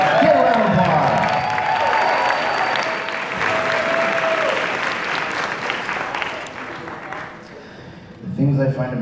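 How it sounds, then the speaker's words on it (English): Loud, dense applause and cheering from a large convention crowd at a Tokyo in Tulsa event fills the hall steadily for most of the stretch, easing near the end as it thins out. "Give a round of applause."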